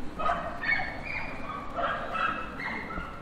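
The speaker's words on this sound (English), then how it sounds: "Barky dog somewhere." Distant dog barking and yipping outdoors at a dairy farm campsite in West Sussex, a few scattered barks over steady outdoor ambience, no talk.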